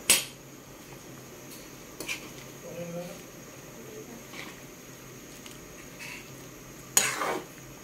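Miswa noodles sautéed in a pan with shrimp and tofu are stirred with a utensil, giving sharp metallic scrapes and clanks at the start, middle and near the end over a faint, low sizzle.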